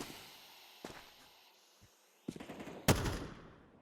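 Gunfire in a Counter-Strike match: a few scattered single shots followed by a louder close burst near the end, all fairly faint overall.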